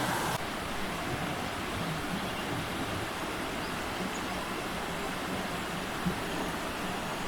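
A waterfall rushes as a dense, steady roar of falling water heard from some distance, unbroken and even throughout with no voices.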